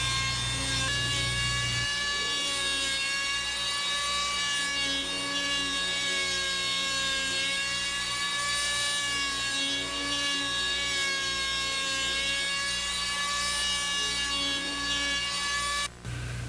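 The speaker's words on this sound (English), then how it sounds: "Use a small power plane or hand plane to finish the top of the opening." A small power plane or hand plane finishing the top of a log window opening, a loud, steady, close tool noise with a constant tone that runs without a break.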